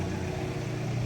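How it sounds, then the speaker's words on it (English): A loud car passes close by on a street in Salamanca, Spain, filling the moment with a steady, broad roar of engine and road noise. "there was a very loud car"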